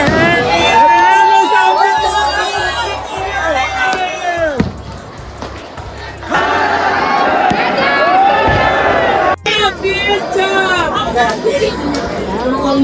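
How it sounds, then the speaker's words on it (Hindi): A dense crowd of devotees at Khatu Shyam Ji temple during a birthday celebration festival, loud continuous chatter and babble with shouts and calls rising over it, close and surrounding. "भीड़ आ चुकी है, भीड़ पे भीड़ आ रही है।"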